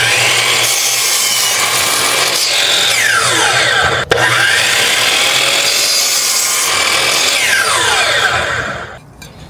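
Steady back-and-forth strokes of a saw cutting through wood, loud and close, continuing for several seconds with a brief pause midway.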